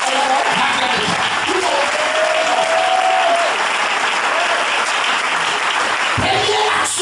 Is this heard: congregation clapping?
yes